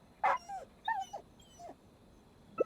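Soft dog whimpers and yips from a video game character dog in Genshin Impact, three short whining cries in close succession followed by a brief faint yelp, close and alone with no talking.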